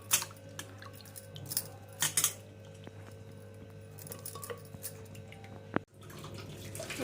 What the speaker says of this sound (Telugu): ఇప్పుడు ఇందులో కొద్దిగా వాటర్ వేసుకోవాలండి,